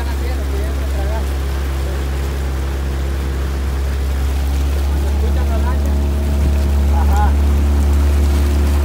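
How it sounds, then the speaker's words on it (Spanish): A motorboat runs on the Presa del Gallo reservoir, a loud, continuous low engine drone, with birds chirping faintly over water and occasional voices. "Ahí la lancha"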